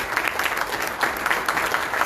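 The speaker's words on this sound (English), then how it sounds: "I think we should all clap for ourselves and clap for the department" An audience applauds after a speech at the Goa Open Innovation Challenge event, a steady dense patter of many hands clapping for about two seconds, fairly close and with no voices over it.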